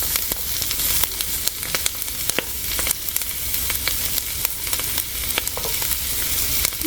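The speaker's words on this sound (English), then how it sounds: "put in most of our poblano so that they can sear and roast as well" Poblano and jalapeno peppers sear in a hot pan, giving a steady loud sizzle with frequent sharp pops and crackles as they are stirred, no voices over it.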